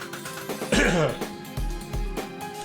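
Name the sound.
throat clearing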